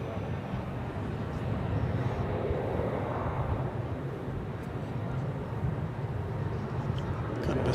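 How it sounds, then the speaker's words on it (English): An American Airlines Boeing 737-800 at Dallas/Fort Worth airport produces a broad, continuous jet roar whose pitch sweeps slightly as it passes, fairly close and steady, with no voices. "It's American Flight 941 to Albuquerque, New Mexico. 737-800."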